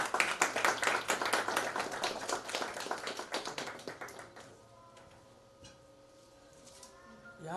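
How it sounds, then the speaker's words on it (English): A crowd claps for a third-prize winner at a space science olympiad award ceremony, brisk and steady at first, then thinning and fading out after about four seconds, leaving a quiet room with a faint hum. "Please give a round of applause, everyone."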